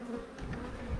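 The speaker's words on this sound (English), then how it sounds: "Look at all the bees." Honey bees buzzing at an open hive, a faint steady droning hum of many insects close by with no voices.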